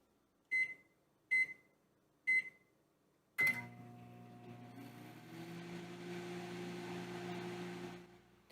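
Four sharp keypad beeps, then a microwave oven starts up with a low steady hum and whirring drone that continues for several seconds.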